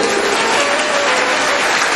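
Dense, steady applause from a large crowd at a Maha Kumbh religious gathering, continuous and loud throughout with no pauses.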